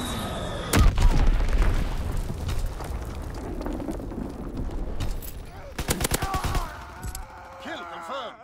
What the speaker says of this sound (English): Dropping Fritzex bomb.